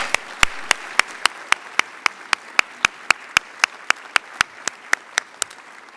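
Applause at an award gala in a hotel ballroom: a steady, evenly spaced run of sharp, crisp claps, about four per second, sounding like a single pair of hands close by over a quiet room.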